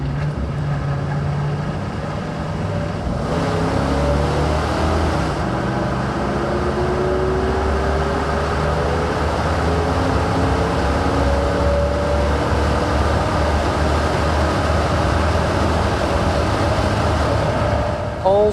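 The 5.4-liter engine of a 2003 Ford F150 Lariat pickup accelerates on a test drive, a steady, moderately loud cabin drone with engine pitch climbing through gears over road and wind noise.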